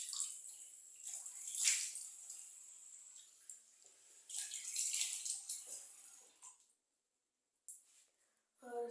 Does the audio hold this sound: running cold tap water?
yes